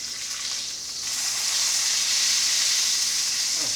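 A homemade venison sausage patty fries in a pan, a soft steady sizzle that swells a little louder partway through, with no one speaking.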